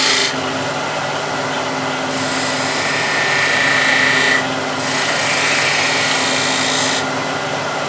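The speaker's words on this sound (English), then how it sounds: "using that long bevel spindle gouge, I can get the details done here" A long bevel spindle gouge cuts detail into spinning wood on a lathe, a continuous loud whirring scrape with the motor hum beneath, the cut easing off and resuming twice without pause in the drone.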